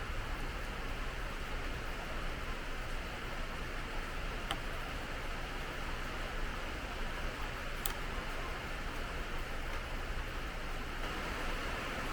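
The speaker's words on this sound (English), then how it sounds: "You'll have to forgive the noise. It's raining balls outside." Steady, dense hiss of heavy rain fills the whole stretch, constant and unbroken, with a couple of faint clicks partway through.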